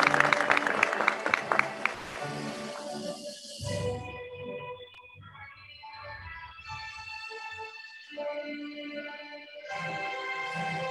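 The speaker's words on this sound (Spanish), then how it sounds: "Lo recibimos con un caluroso aplauso." Warm applause from a graduation ceremony audience welcoming a student, a dense burst of clapping for the first few seconds that then fades under music.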